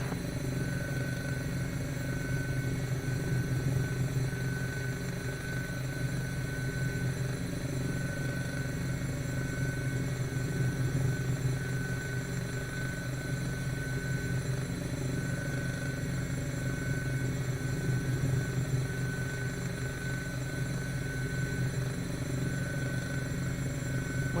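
Steady helicopter rotor and engine drone from a flight simulator game tour over Los Angeles, a continuous broadband rumble holding even and loud throughout with no pauses.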